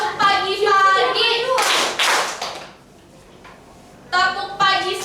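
A teacher speaks to a class of schoolchildren, then a pair of loud group hand claps rings out in a quick burst, followed by a quiet pause before her voice resumes.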